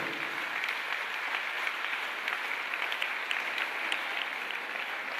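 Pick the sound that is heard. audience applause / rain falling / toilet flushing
audience applause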